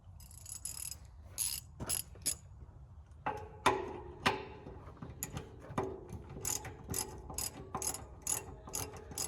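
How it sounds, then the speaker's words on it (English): A ratchet wrench clicks close by in quick bursts of sharp ticks, pausing and resuming several times during work on a cabover truck fuel tank mock-up, with no talk. "My ratchet."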